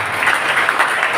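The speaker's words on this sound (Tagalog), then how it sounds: "Malakas sa palakpak para sa kanyang salita." A gathered audience at an inspirational talk by a church disciple in Antipolo City claps in a brief, dense burst of applause, loud and close.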